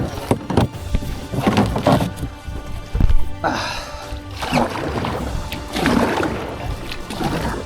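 Canoe paddles dig hard into lake water on a wilderness trip in Wabakimi, giving repeated splashing strokes and hull thunks in an uneven rhythm, close and fairly loud, with occasional voices mixed in.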